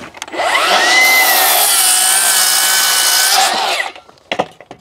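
A power saw rips through a wooden joist in one loud, close cut lasting about three seconds, its motor whine steady under a rough cutting rasp, then winding down into a few faint knocks.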